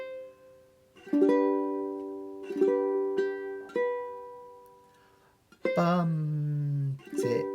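Ukulele played clawhammer style, a measure of struck notes with brushed strums and thumb plucks in a loose bum-dit-ditty rhythm, close and clear with short gaps between phrases.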